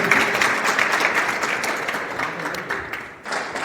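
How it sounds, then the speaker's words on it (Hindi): Loud, dense applause from an audience at an event in India, sustained clapping that stays close and full throughout. "राजेंद्र जी बंजारा के लिए एक बार जोरदार तालियां।"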